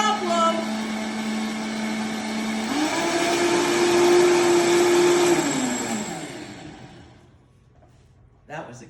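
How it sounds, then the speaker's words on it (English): A Vitamix blender whizzes up ingredients for lemonade with a loud, close, steady motor whine that climbs in pitch partway through, holds, then spins down to silence before a brief clunk. "I love the Vitamix"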